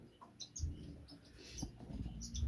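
Finches chirp in a bird shed, among them a Gouldian finch hen, with soft, scattered high tweets at close range over quiet rustling.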